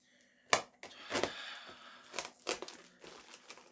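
Packaging around a Rogue lever belt, a leather weightlifting belt, being torn and crinkled open in a series of sharp crackling rips and rustles, close and fairly quiet, with no talking.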